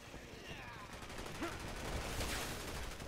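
Gunfire from the co-op shooter Resident Evil 6, a dense stretch of rapid shots and bursts mixed with loud game action and people talking over it throughout.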